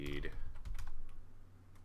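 Someone types on a computer keyboard in a run of quick, light, close key clicks that fade toward the end, with faint talk in the background.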